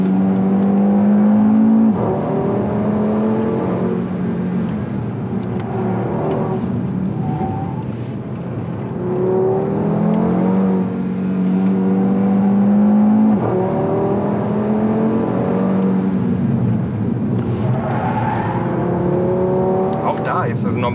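The engine of a 2015 Audi RS3 Sportback on a race track holds a sustained drone, with pitch climbing and falling through repeated revs and gear changes, under someone talking throughout.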